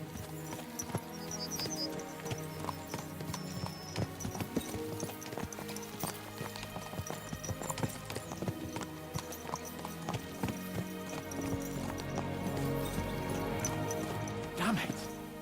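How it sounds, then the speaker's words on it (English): Horses' hooves clip-clop in a steady, fast rhythm as they are spurred on in a video game, under a busy layer of background music and occasional whinnies. "Let's really spur these horses on, eh?"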